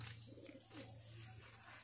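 Tonk pigeons coo softly and faintly, a low repeated throaty murmur running under faint background hiss.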